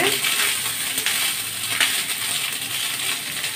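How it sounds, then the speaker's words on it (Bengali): Cooked rice fries in a pan with an even, close sizzle and faint scraping of a stirring spoon, steady from start to finish without speech. "এই দেখো আমার ভাত ভাজা চলছে"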